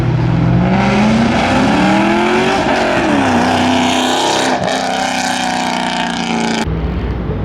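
A Honda Civic at a rowdy car meet revs hard and loud, its engine note climbing, dipping and climbing again in long sustained pulls before cutting off abruptly near the end.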